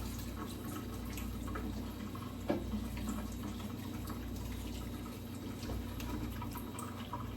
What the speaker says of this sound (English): Just going thoroughly over the top of it with some cold water